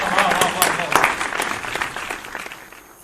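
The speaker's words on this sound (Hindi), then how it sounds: "मैं चाहता हूं कि एक बार जोरदार तालियां बजें" An audience at a poetry recital marking Parakram Diwas and Republic Day applauds to welcome Dr. Prateek Gupta to the stage: a burst of dense clapping that gradually fades, with some voices mixed in.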